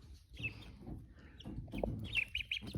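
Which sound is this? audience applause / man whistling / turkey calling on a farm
turkey calling on a farm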